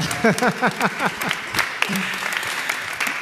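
Audience at a Christian worship music concert clapping and cheering, with quick rhythmic claps and excited whoops up front, then a steadier wash of applause and crowd noise.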